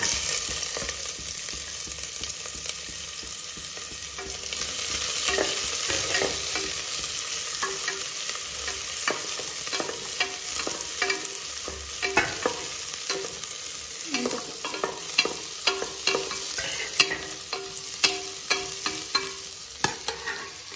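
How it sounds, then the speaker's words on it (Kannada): Onions frying and being stirred in a pan for methi pulao, a steady broadband sizzle with frequent sharp clicks and scrapes of a spoon against the pan, growing busier toward the end, with no talking. "ಓಕೆ, ನೆಕ್ಸ್ಟ್ ಈರುಳ್ಳಿ ಹಾಕೋಬೇಕು"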